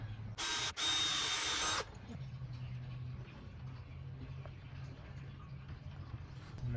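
A power drill drives a screw into a goat enclosure gate, one brief loud whirring burst with a short break near the start, then a quiet low hum of background for the rest.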